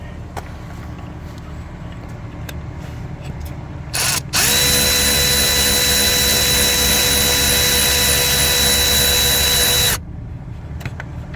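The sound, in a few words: power tool removing 10 mm crankshaft position sensor bolt, Jeep Patriot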